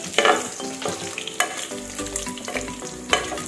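Noodles for Bicolano pansit bato guisado fry in a pan while garlic goes in, with a loud sizzle, scraping stirs and clanks of a utensil, close and alone.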